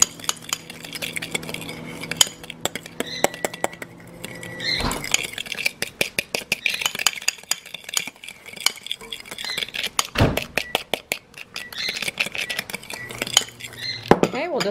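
A utensil whisking egg yolk with a tablespoon of monk fruit sweetener in a small bowl: rapid, repeated light clinks and taps against the dish, a busy ticking rhythm with a couple of louder knocks, close up.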